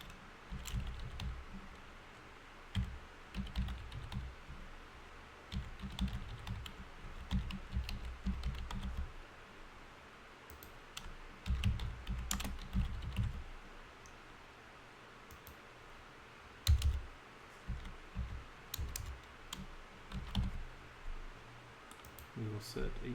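Bursts of rapid keystrokes on a computer keyboard while a new user is added, clattering in uneven clusters with short pauses between, close and moderately quiet, with a faint background hum.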